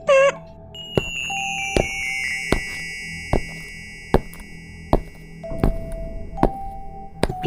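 A two-tone electronic doorbell chime in the mobile game Avatar World, heard at the start, followed by a series of evenly spaced thuds and tones over a quiet background.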